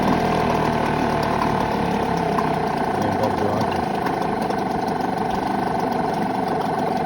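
A small 5.8HP Parsun two-stroke outboard motor idles with a steady buzzing chug, close and constant, nearly stalling, while someone talks over it.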